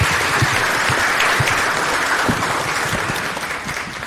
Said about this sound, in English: y'all give our panelists a big round of applause